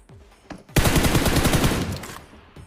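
A loud, close volley of automatic gunfire from a shooter video game, a rapid sustained burst of over a second framed by a few isolated sharp shots.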